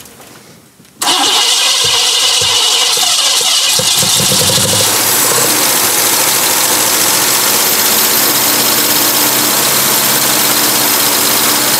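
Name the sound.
Cadillac V8 engine starting and idling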